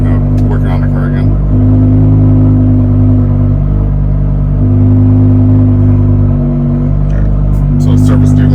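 A BMW E63 M6 engine idles to warm up, a loud, steady deep hum with strong tonal drone that dips briefly a couple of times, with faint clicks and clatter near the end.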